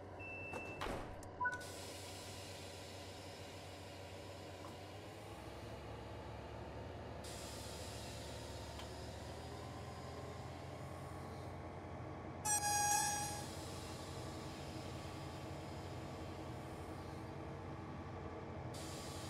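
A steady mechanical rumble of a DB BR 628 train running in Train Sim World 3, with brief tonal beeps and a short louder burst partway through, continuing without talk.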